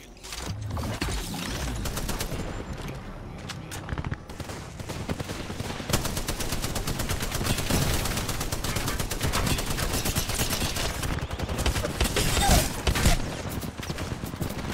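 Nearly continuous automatic gunfire from the Apex Legends battle royale shooter, dense and loud with rapid rattling shots and overlapping bursts for about fifteen seconds, with occasional brief mechanical clicks and a voice faintly beneath.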